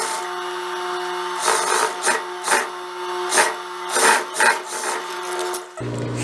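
A sewing machine stitches a seam on a jumpsuit with a 1 cm margin, a steady motor hum broken by several rhythmic bursts of needle stitching, close and loud, then it stops.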